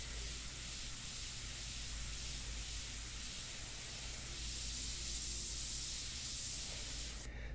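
An airbrush sprays India ink onto paper with a steady, soft, even hiss that runs close and unbroken throughout, with no voices.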